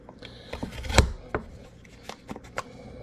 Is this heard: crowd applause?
no